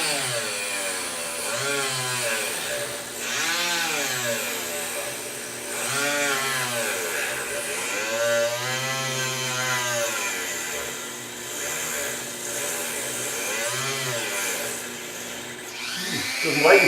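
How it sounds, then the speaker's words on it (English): A Dremel fitted with a round diamond blade grinds into the keel of an old model boat, its whine rising and falling in repeated cutting passes over a steady motor hum. "I'm going to do this quickly with the Dremmel, with the blade here"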